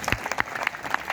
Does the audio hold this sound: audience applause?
yes